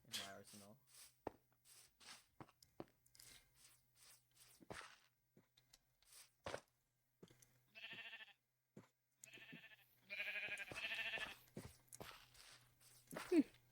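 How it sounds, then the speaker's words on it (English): Sheep bleat in a Minecraft-style video game, a few short quiet calls scattered among footstep clicks and other game sounds, with a player talking. "Sheep."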